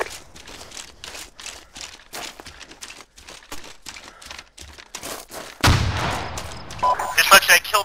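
Gunfire in the military game Arma 2: a steady run of sharp, mid-distance shots and thumps, ending in a louder, heavier rumble of sustained fire.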